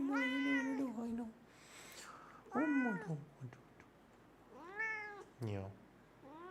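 Two cats meowing in a home, several drawn-out rising and falling meows spaced across the clip, fairly close and clear with no talk over them.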